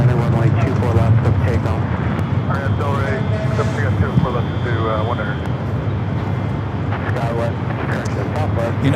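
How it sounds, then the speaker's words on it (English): A United Boeing 787-9 Dreamliner takes off at Los Angeles International Airport, its engine roar a broad, steady rumble that holds throughout. Someone commentates over it the whole time. "You have a United Dreamliner heading up for Northside at takeoff."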